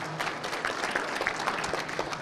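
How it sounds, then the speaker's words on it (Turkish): Steady applause from a crowd, dense overlapping claps throughout at a constant level, with faint voices mixed in. "Alkışlıyoruz efendim"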